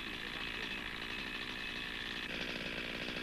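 A 1980s chainsaw cuts limbs off a felled tree trunk with a pushing chain, its engine buzzing loud and steady throughout as it saws, pitch shifting slightly partway through.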